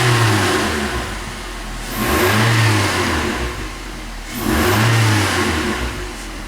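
A Nissan Altima 2.5L engine, just repaired for a throttle fault, revs up twice in strong swells from a steady idle, loud and close with no talking.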